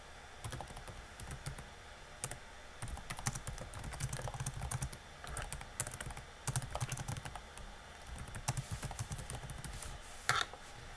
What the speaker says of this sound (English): you would just type in the name of your actual prompt